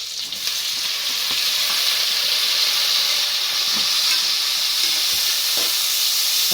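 Chopped tomatoes hitting onions already frying in hot oil, a loud continuous hissing sizzle held steady throughout, with occasional soft stirring knocks underneath.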